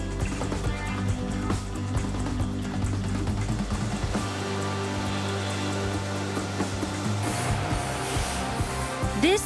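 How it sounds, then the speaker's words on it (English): A 20-stage cold rolling mill with 10 upper and 10 lower rolls producing thin steel strips in a plant, giving a loud continuous mechanical drone and hum with layered tonal whine and a wash of hiss. "is the 20-stage cold rolling mill, which uses 10 upper and 10 lower rolls."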